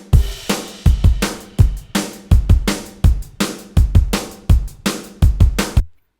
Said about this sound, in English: which again is very like dusty and kind of grainy